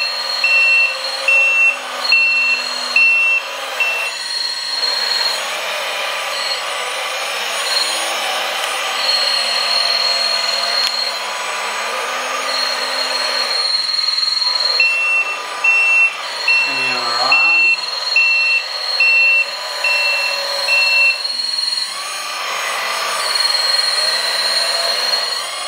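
A LESU 1/16 scale RC hydraulic six-wheel articulated truck driving forward in low gear with its pump running, giving a steady electric whine and motor hum with repeating reversing-style beeps, close by while someone talks.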